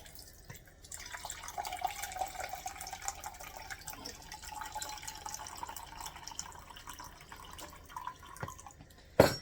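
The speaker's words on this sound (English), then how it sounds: "So let's drain the juice in here." Juice from canned beef stew drains with a thin, trickling, splashing stream that runs steadily for several seconds, fairly close and modest in level, ending with a brief louder clatter.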